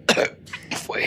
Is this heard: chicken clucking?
no